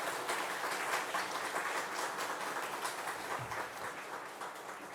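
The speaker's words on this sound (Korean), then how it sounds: "여러분 큰 격려의 박수 해주시면 좋겠습니다" Church congregation giving encouraging applause at a founding worship service, steady dense clapping from a crowd, fairly distant and alone without speech.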